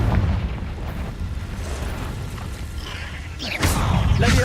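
A Confringo fire spell explodes in the video game Hogwarts Legacy inside a cave, with rumbling, mechanical ambience building to a sharp, loud blast and burst near the end.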